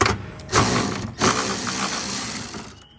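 A socket ratchet turns a door handle nut inside a Jeep WJ door, giving two bursts of close, rapid clicking followed by a steady ratcheting rattle.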